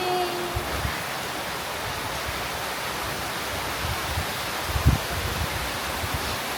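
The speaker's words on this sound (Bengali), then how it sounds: "সেই অনুভব হচ্ছে বৃষ্টিটা চলে আসছে একদম সুন্দর করে" Heavy monsoon rain pours down outside in a windy storm, a steady, dense hiss with faint low rumbling throughout and no voices.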